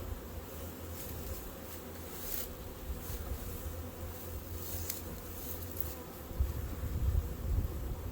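Honey bees buzzing densely during a late-February hive inspection of likely Italian-type bees, a steady close drone with individual bees zipping past the microphone.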